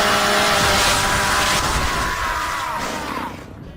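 A Gears of War chainsaw melee attack from the video game roars loud and close, a harsh revving motor grind with shouting under it that fades out at the end.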